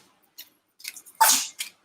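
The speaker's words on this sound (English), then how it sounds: "Bless you, my dog, sneezing." A quick, wet burst of a dog sneezing, preceded by a few small snorting puffs and followed by one short huff, close by with no talking.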